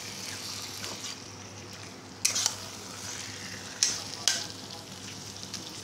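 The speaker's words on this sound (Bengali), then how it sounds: "এই মাছটাকে দিয়ে এবার নাড়ছি।" Spiced lote fish (Bombay duck) with cumin, chili powder and turmeric sizzling steadily in a pan while being stirred, with a few sharp scrapes and clinks of the utensil against the pan.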